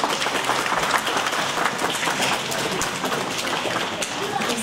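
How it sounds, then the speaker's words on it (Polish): An audience at a youth chess tournament applauds, a dense, steady burst of clapping that holds through the whole stretch, fairly loud and close, with some crowd murmur underneath. "myślę, że ogromne brawa mu się należą za to"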